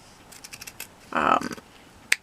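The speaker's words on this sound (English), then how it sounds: "You want to slant cut the ends." Scissors slant-cut the ends of ribbon for a boutique bow: a run of small crisp snips, then a longer dense cutting rasp and a sharp final click, close and quiet with no voices.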